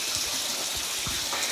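Water flowing continuously at a Shiva shrine inside a temple, a constant rushing gush with a few soft low splashes mixed in.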